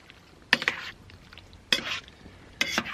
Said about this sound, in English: We're just gonna let it simmer and cook for a little bit to reduce that sauce